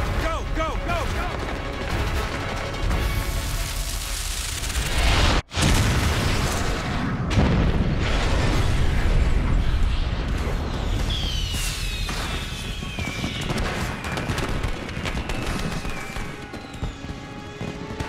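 Repeated booms and crackling bursts from fireworks going off inside a burning warehouse in a TV action scene, loud and sustained with a brief drop to near-silence partway through, mixed with dense background noise.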